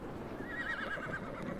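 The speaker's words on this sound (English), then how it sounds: "Where's the blinking horse gone?" A horse in the ARK: Scorched Earth video game gives a loud, wavering neigh, a shrill whinny that rises and trembles for about a second over a low game background.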